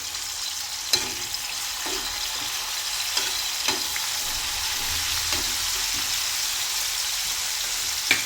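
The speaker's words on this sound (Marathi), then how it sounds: "तो टोमॅटो तोपर्यंत छानपैकी परतो" Tomatoes sautéing in a pan for a wet pigeon pea kharda make a steady close sizzle with a few soft clicks of stirring along the way. No one speaks.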